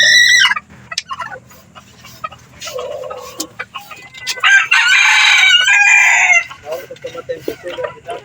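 Hens and bantam chickens squabble over a nest, loud close clucking and squawking with a burst of harsh, sustained cackling in the middle; a voice talks briefly amid the birds.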